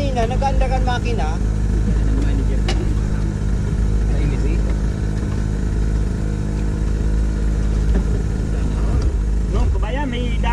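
Boat or vehicle engine running at a steady, loud drone throughout, with people talking over it.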